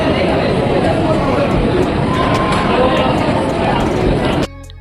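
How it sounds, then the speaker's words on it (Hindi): A packed crowd of devotees fills the multi-storey Tulja Bhavani temple complex, producing a dense, continuous hubbub of overlapping voices and footsteps that cuts off abruptly near the end. "मंदिर परिसर में भीड़ बहुत है, मतलब ऐसे ऐसे 4 फ्लोर पूरे भरे हुए हैं।"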